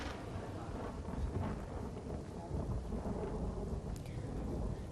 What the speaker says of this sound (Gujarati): દ્વારકાના કાટકોલા ગામમાં ધોધમાર વરસાદ થયો